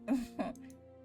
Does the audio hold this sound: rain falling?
no